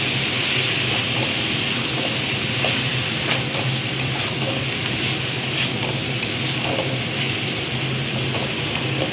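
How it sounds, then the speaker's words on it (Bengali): Chicken pieces fry with vegetables and spices in a hot pan, giving a continuous loud sizzle broken by scraping stirs throughout, with no talking. "এটাই খাওয়া হয়ে যাবে সবজি দিয়ে চিকেন ভাজা"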